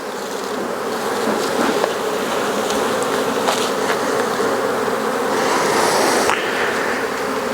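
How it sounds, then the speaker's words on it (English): Honey bees fill an open, crowded hive with a dense, steady buzzing roar, loud and close throughout, swelling slightly near the end, with occasional faint clicks of handling. "a lot of bees in this hive"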